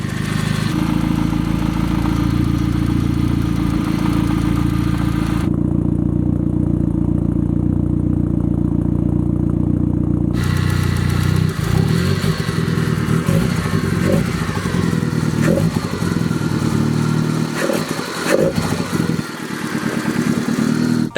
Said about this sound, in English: Hopefully it starts first crank, we'll find out. A little bit of a rough start. A little bit lifter tick,